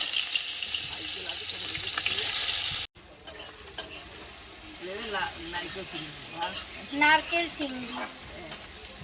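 Onions fry and sizzle in a pan while being stirred, a steady hiss that cuts out briefly, then resumes quieter with scraping stir sounds and a voice talking over it.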